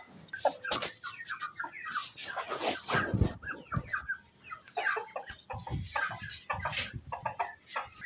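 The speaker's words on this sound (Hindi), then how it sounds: "मुर्गा मैंने पकड़ लिया" Aseel rooster clucking and squawking in agitation after being caught in a village yard, with repeated close, loud, irregular calls and flapping.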